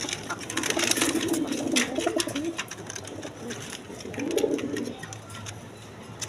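Orange chila pigeons at a pigeon farm coo in two soft, rolling bursts a few seconds apart, close and moderately loud over a steady background hiss.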